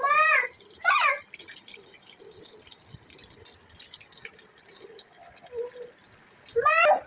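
Marinated chicken pieces deep fry in hot oil for a KFC-style chicken fry, giving a steady close sizzle throughout, with brief voices near the start and end.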